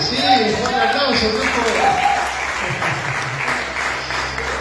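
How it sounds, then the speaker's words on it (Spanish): A church congregation claps together in applause, a steady, dense wash of hands with voices mixing over it, lasting throughout at an even level. "Sí, un aplauso"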